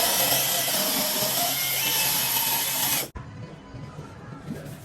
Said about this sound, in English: You're going to start off with the 500 grit sandpaper.